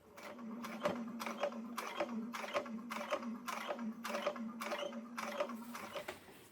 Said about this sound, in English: Just going to hand position the needles and start to sew.